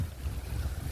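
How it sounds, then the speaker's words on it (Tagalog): Strong wind gusting outdoors beside a grill where a whole chicken inasal is roasting, a low rumbling buffet of the microphone throughout with no speech. "Lakas ng hangin eh."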